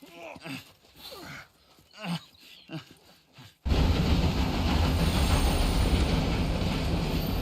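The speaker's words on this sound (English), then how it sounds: "For a moment, I thought you were gonna let that train ride right over us." A train in the video game Red Dead Online rolls over the tracks: a few seconds of breathy groans and gasps, then a sudden, loud, steady roar of rolling wheels and rumble that fills the rest of the clip.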